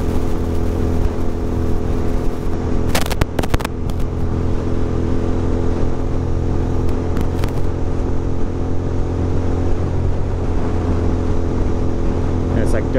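A Ducati motorcycle cruises along Palisades Parkway with a loud, steady engine drone and rushing wind, marked by brief bursts of buffeting around a few seconds in.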